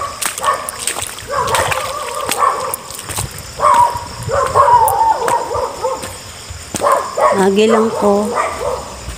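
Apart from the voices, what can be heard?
dog barking at night outdoors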